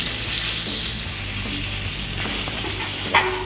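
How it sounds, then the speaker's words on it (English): Sausages sizzle steadily on a Blackstone flat top griddle while a metal scraper chops through them, its scraping taps scattered over the continuous close, loud frying hiss. "Let's go ahead and use our scraper. Just kind of give these a little chop."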